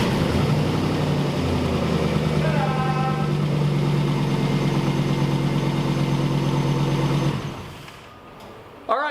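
A Chevy truck engine with damaged wiring runs at a steady, loud, rumbling idle close by, then cuts off abruptly near the end, leaving quiet background noise.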